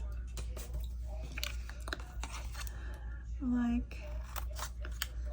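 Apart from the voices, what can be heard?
cutting old scrapbook paper into tags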